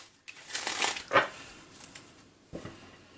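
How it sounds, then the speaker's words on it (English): A deck of tarot cards being shuffled by hand at close range, with several crisp riffling and sliding bursts and a soft tap, alone without talk. "You can shuffle the deck however you wish to do so."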